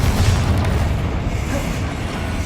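Confringo explosion spell in the Hogwarts Legacy video game, a dense continuous booming rumble with crackling bursts, loud and close, with no voices.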